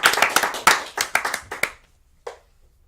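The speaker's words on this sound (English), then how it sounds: "Clap it up, clap it up." A handful of people at a company meeting clapping for promoted colleagues, a short irregular burst of close claps that quickly thins out, followed by one last isolated clap.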